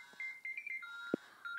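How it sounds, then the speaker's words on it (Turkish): A phone rings with a melodic electronic ringtone, a series of faint warbling tones coming in short phrases with brief gaps, one soft thump partway through, and no talking. "Telefon çalıyor."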